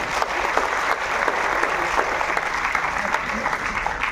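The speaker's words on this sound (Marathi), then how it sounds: "त्यासाठी तुम्ही स्वतःबद्दल एकदा जोरदार टाळ्या वाजवा" An audience at a motivational talk breaks into loud, sustained clapping that fills the room evenly for several seconds, with many hands beating close together.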